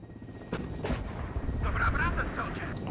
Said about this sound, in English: It's nice to have rocket support though from these helicopters